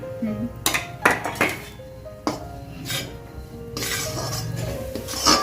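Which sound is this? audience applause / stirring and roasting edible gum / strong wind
stirring and roasting edible gum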